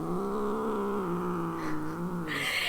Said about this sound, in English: She's actually very sweet, but she's still a little freaked out by my other cats, hence the growling.